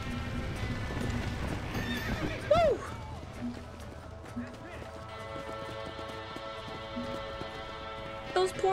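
Rhythmic hoofbeats of horses clip-clopping along in Red Dead Redemption, with a sharp whinny partway through and another near the end, under a steady game-like background hum.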